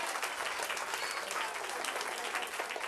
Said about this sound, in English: Clap loud for Amber